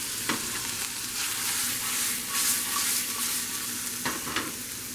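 Carrots for vegetable ramen fry in a pan over moderate heat, a steady close sizzle with occasional spatula scrapes and knocks, no voices.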